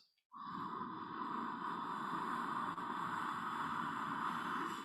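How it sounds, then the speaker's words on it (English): Slow meditative breathing drawn through the throat with the mouth closed, a close, soft hushing rasp that holds steadily for several seconds with no speech. "It's almost like a hushing sound."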